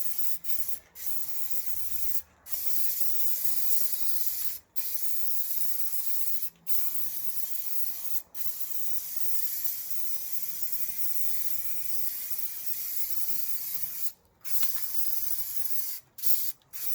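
An aerosol can spraying a coat of Plasti Dip onto wheel rims, long, steady, close hissing bursts separated by brief gaps as the nozzle releases and presses again, with no talk over it.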